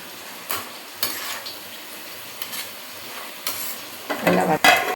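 Onions sautéing in a pan for a home-cooked cabbage and prawn dish, a soft continuous sizzle broken by several scraping strokes of a spoon or spatula against the pan, the stirring growing louder near the end.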